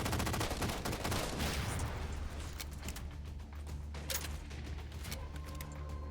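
Rapid automatic gunfire from a saw machine gun in the Halo video game, a dense run of loud shots in the first couple of seconds that then gives way to quieter bursts and mechanical game sounds.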